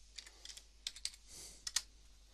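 A password is typed on a computer keyboard, a quiet, close run of irregular key clicks with brief pauses between clusters.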